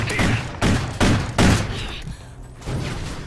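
Revolver fire in the Xbox 360 shooter Call of Duty: Ghosts: four heavy, evenly spaced shots in quick succession, a short lull, then a fifth blast, loud and close.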